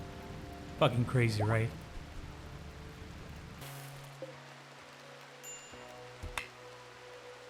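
RimWorld rain keeps up a continuous soft hiss, first under a man's short spoken remark, then carrying on alone with a few faint tones and a low hum.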